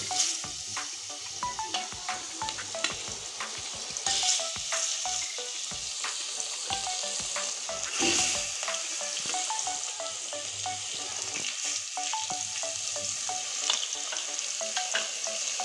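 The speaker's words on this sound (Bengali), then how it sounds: "এখন আমি এই নুন হলুদ মাখানো মাছগুলো ছেড়ে দিচ্ছি তেলে" Fish pieces rubbed with salt and turmeric frying in hot oil, giving a steady bright crackling sizzle with scattered pops and occasional spatula knocks, close and continuous.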